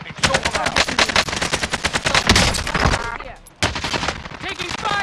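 Rapid automatic gunfire in Warzone on Rebirth Island rattles in loud, close bursts. A brief pause falls near the middle before the shooting resumes, with faint voices now and then.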